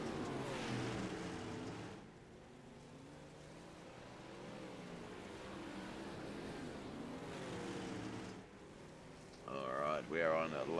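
A sprint car engine drones loudly in an iRacing race, holding a steady roar that dips briefly and rises again into a higher revving burst at the end, with someone commentating over it.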